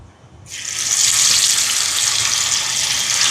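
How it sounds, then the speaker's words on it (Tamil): Anchovies drop into hot oil and set off a sudden loud, steady sizzle that stays close and continuous, with no talking. "இப்போ இதில் வந்து நெத்தலியை பொறிக்க போகிறேன் எண்ணெய் சூடாட்டும் மீனை பொறிக்க போடுவான்"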